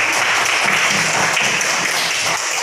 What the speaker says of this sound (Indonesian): Oke, tepuk tangan untuk Afif